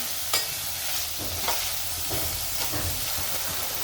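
Potatoes, onions and tomato sautéing in a pan for dhaba-style dum aloo, a soft continuous sizzle with a few scraping strokes of a spoon stirring, close and fairly quiet.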